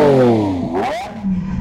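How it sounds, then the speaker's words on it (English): A seriously loud car engine revs hard nearby, the pitch rising and then dropping with a rough, clattering edge before settling into a lower growl, loud and alone with no talk. "This car is seriously, seriously loud."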